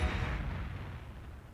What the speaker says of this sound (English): But what about the explosion?